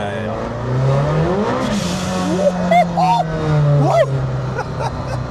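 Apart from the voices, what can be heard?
modified McLaren Senna (1,100 hp) accelerating in Monaco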